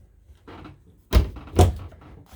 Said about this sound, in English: Bifold door.